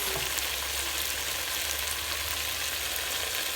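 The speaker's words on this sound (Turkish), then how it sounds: "Şimdi artık suyumuzu ekleyeceğiz ve fasulyelerimiz yumuşayana kadar pişireceğiz." Water pours into a pot of green beans and potatoes cooking in sauce, making a steady, even hiss-like rush that holds for the whole stretch without a break.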